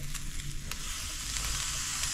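Tomato and ají chili frying in a pan for Peruvian lomo saltado, a soft close sizzle with crackling, faint throughout, and a few brief scraping stirs.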